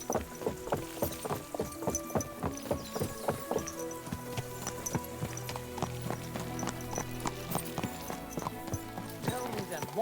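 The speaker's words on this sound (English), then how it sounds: "Watch out with that horse!" Horse hooves clip-clop in a steady trotting rhythm in the medieval video game Kingdom Come: Deliverance II, clear and fairly close, while voices speak over them.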